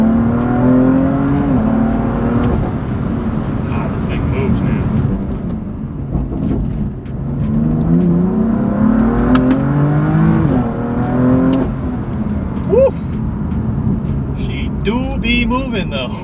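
Engine of a roughly 500-horsepower car with a dual-clutch gearbox pulls up through the revs in rising surges while driving, its drone steady and close beneath ongoing conversation inside the cabin.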